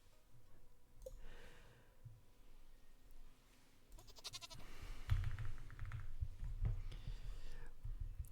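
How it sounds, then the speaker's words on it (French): A goat bleats in the farming video game Stardew Valley, short game-sound calls over quiet background music, with clicking and brief noisy bursts, fairly faint overall. "Chèvre."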